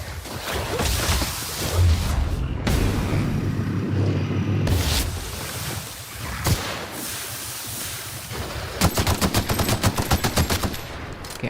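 Automatic assault rifle gunfire in The Outer Worlds, a sci-fi shooter game, with sustained loud rattling bursts, whooshes and booms, ending in a rapid, evenly spaced string of sharp shots.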